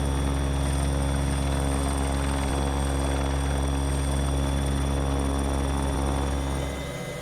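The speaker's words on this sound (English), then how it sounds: "Let's put the chopper down there." A helicopter sets down beside a NASA hangar on a windy day, its rotor and engine drone loud, constant and close throughout, easing slightly at the very end.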